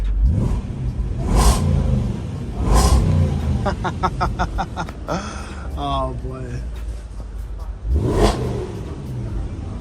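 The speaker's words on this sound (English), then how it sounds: "Let's give it a little rev." A Range Rover Sport SVR engine revs hard twice, dips between bursts, then roars again near the end, with someone speaking briefly in the middle.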